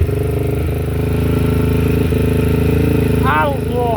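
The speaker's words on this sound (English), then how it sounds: "Idle's a little high." A 2007 Honda 440ex ATV engine idles slightly high in a steady, loud drone, with a brief higher whine near the end as another voice or sound briefly rises.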